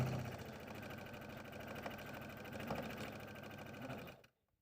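A sewing machine stitches fabric pieces for a pillow, leaf and grass shapes, in a steady continuous whir close by, stopping abruptly just before the end.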